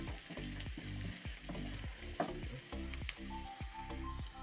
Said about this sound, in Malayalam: അതുകൂടെ ചേർത്ത് നല്ലവണ്ണം ഒന്ന് വഴറ്റാം ഈ മീഡിയം ഫ്ലെയിമിൽ മതി കേട്ടോ